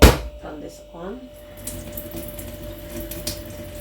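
A kitchen tap is switched on over a saucepan and runs in a steady broadband wash, after a short bit of nearby talk at the start.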